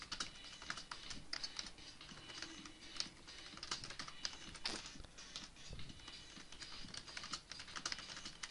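Rapid, irregular clicking of a computer keyboard during a Guild Wars session, steady patter of keystrokes close up and alone for several seconds.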